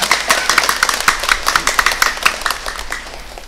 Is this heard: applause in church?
yes